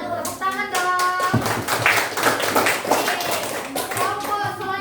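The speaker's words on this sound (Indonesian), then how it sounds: "Tepuk tangan dong." Primary school children in a fifth-grade classroom clap their hands in a quick burst of group applause, mixed with overlapping young voices and chatter nearby.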